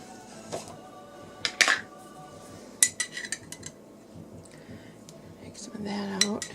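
A spoon scooping pizza sauce from a container onto naan bread, with scattered sharp clinks and scrapes of metal against dish, a few taps then a short rattling stretch near the end.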